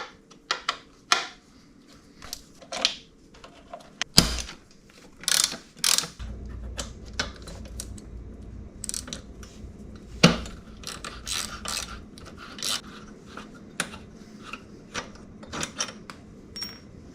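A ratchet wrench works a bolt loose from the passenger peg of a 2007 Honda CBR600RR, close repeated clicking pawl bursts and metallic clanks in irregular bursts, with a low rumble partway through.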